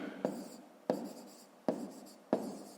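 A pen scratches across paper in four short bursts, each starting with a sharp tap and trailing off, quiet and close, with no talking.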